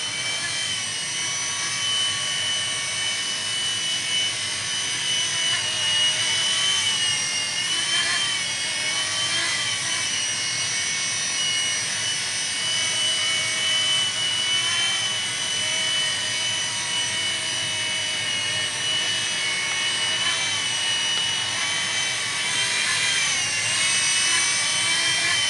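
A Blade mSR micro RC helicopter flies nearby, its small rotor and motor giving a steady, high-pitched whine that holds continuously with slight wavering in pitch, with no talking.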